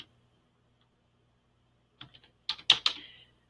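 Fingers type on a computer keyboard to enter a search word in Google Slides: a few light taps, then a quick burst of sharp clicks. The nearby keystrokes follow nearly two seconds of silence.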